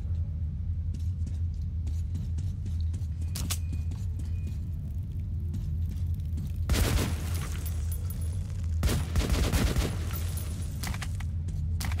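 Gunfire and bursts from the first-person shooter Metro 2033 Redux, two loud clusters of broadband shots and booms rising over a steady low rumble of in-game ambience.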